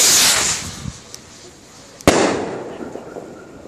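A Rockin Out Rocket firework by Dragon 702Vegas fires outdoors: a hissing fizz at first, then a single sharp loud bang followed by a crackling, sizzling tail that slowly fades.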